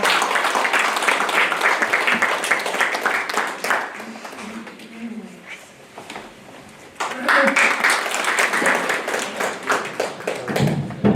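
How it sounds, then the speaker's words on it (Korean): At a Korean community awards ceremony in Washington, the audience applauds to welcome the consul general. Strong clapping for a few seconds eases into a quieter stretch with voices, then swells again into dense applause. "뜨거운 박수를 한번 환영해 주세요"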